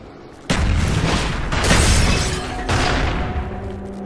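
A grenade blast in the Black Ops shooter game: a sudden loud boom hits after a quiet lead-in, followed by a second swelling burst and another heavy impact, with dense rumbling debris noise filling the whole stretch.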